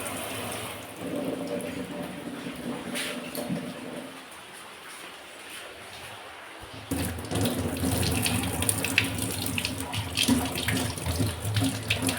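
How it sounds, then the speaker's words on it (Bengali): A household tap runs water at bath time with a steady hiss and splash that grows louder and fuller partway through. "কলটা আসতে খোলো।"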